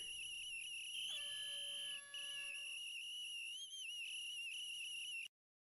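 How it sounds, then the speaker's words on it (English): A shrill, steady dog whistle sounds continuously for about five seconds, briefly joined by a lower tone, then cuts off abruptly into silence. "It's a dog whistle."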